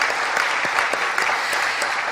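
A church congregation at a Friday overnight worship service claps steadily, with continuous dense applause throughout the short stretch.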